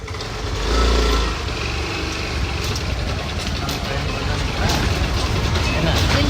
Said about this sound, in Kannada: ನಮ್ಮ ತಮ್ಮ ಗಾಡಿ ತೆಗಿತಾ ಇದ್ದಾನೆ